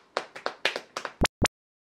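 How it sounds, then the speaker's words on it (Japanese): Hand claps: a quick run of about eight sharp, close claps in an uneven rhythm, ending with two louder, crisp slaps, then silence. "すべてのさつまいも商品に拍手。"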